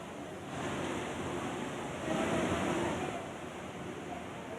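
Heavy monsoon rain on Mumbai's Western Express Highway, a steady dense hiss and roar that swells slightly midway, continuous and fairly distant throughout.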